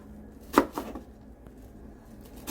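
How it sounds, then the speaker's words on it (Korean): Enoki mushrooms being sliced roughly with a knife on a cutting board, a few sharp chops near the start and one more at the end, close and fairly quiet with no talking. "팽이버섯은 둥성둥성 썰어주세요"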